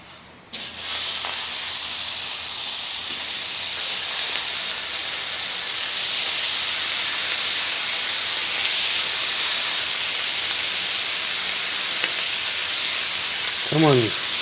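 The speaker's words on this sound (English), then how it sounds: "Cook off some bacon." Homemade pepper bacon sizzles on a heated cooking surface, giving a loud, continuous crackling hiss that swells midway and carries on unbroken, with a brief chirping squeak near the end.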